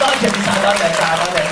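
An audience at an award ceremony for a research project applauds steadily in a dense, continuous clatter of clapping, while someone speaks over it.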